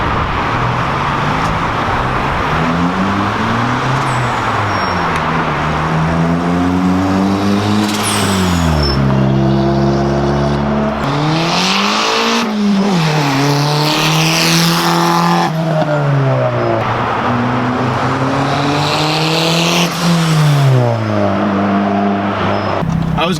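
A car engine revs hard and climbs through the gears, loud and close, its pitch rising and falling repeatedly with road noise underneath.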